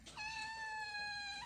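A domestic cat gives one long, clear meow that rises and then settles, heard alone and fairly close with no one talking.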